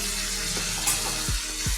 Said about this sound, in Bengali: দিয়ে এটাকে আমি কষিয়ে নিই